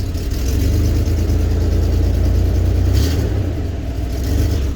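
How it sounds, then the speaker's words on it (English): A 2000 GMC Jimmy engine idles roughly with multiple cylinder misfires, a loud, close, continuous low rumble with uneven pulsing and a brief surge near the end. "you can tell it's misfiring bad just the way it's shaking"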